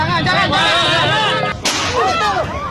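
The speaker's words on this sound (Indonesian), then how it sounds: "Timah panas pun melesat dari ujung senjatanya." A single sharp gunshot cracks out midway, sitting among tonal music and sound effects that run throughout.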